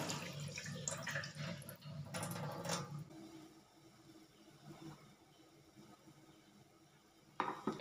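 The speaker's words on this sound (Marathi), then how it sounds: "वरचं पाणी काढून घेऊया." Water being drained off soaked rice in a home kitchen: a few seconds of splashing, pouring water up close, then a quiet stretch before a short clatter at the end.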